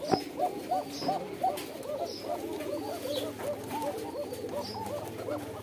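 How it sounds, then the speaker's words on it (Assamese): Pigeons coo steadily in a soft, throaty, repeating rhythm, many calls overlapping, with a few faint higher chirps above. "কুহা পাৰচৰাই এইটো কেনেকৈ মাতি আছে চাওক"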